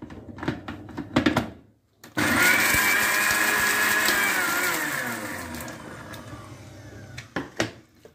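A mixer grinder grinding sambar ingredients with water whirs loudly for about three seconds, its motor droning steadily before winding down, with brief clunks and handling noises before and after.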